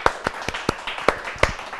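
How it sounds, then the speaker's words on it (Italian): A handful of people at a live event clap to welcome a psychology professor, a few sharp, distinct claps spaced irregularly, close and fairly loud with no talk over them. "facciamogli un applauso e diamogli il benvenuto"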